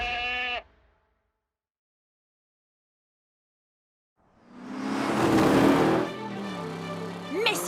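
A goat in an animated Matchbox farm adventure lets out a short, wavering bleat, followed by silence and then a revving car engine.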